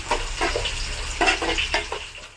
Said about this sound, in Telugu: వీటిని కూడా ఇప్పుడు బాగా వేయించుకుంటున్నానండి ఉల్లిపాయ ముక్కలు బ్రౌన్ కలర్లో వచ్చినంత వరకు వేయించారండి